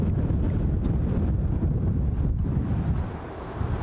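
Wind buffets a microphone outdoors at Newcastle International Airport, a steady loud low rumble and roar running throughout and easing slightly near the end, with no voices.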